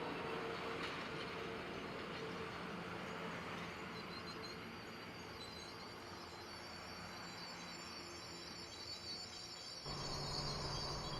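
Amtrak train 514, hauled by a P32 locomotive, rolls past at night as a faint, distant rumble with a steady hum, soft wheel noise and insect chirping in the background.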